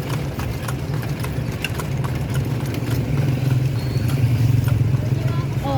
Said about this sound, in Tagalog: Oh, tingnan mo, ang dami pang kabayo dito.